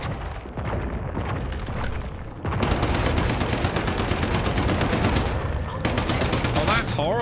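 Rapid automatic gunfire in the video game Once Human, a dense sustained burst of shots that pauses briefly and resumes, loud and close with faint voices underneath.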